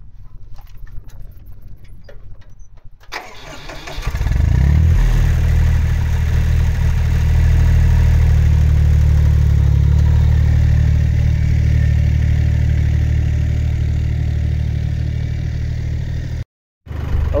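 A tractor engine cranks and catches about four seconds in, then settles into a loud, steady, low idle that runs to the end, with one brief dropout near the finish. Faint rustling and handling noises come before the start.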